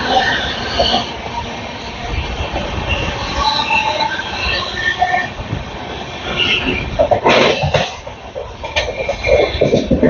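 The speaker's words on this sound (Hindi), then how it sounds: "Skipping Chitranjan railway station." An Indian passenger train runs through Chittaranjan railway station without stopping, a loud, close rush of wheels with squealing metal and rattling carriages, sharper clatter bursting in toward the end, and no voices.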